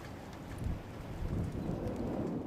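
A rain-wrapped EF5 tornado moves through the south side of Athens, giving a dense, continuous roar of heavy rain and wind with low rumbling underneath, steady and enveloping.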